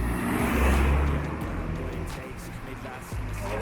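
A car drives along a mountain road toward Pokut plateau in the Black Sea highlands. A close, steady engine whoosh swells and then fades gradually, with people talking over it.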